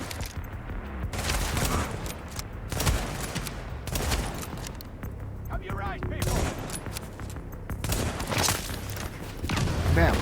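Rapid rifle gunfire in a Tom Clancy's The Division firefight, bursts of shots cracking repeatedly across the whole stretch with someone talking over the shooting.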